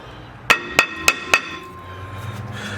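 Four sharp metallic hammer taps, evenly spaced about a third of a second apart, on the brake assembly of a 2008 Lexus IS250 with a built-in parking brake, each ringing briefly before quiet background.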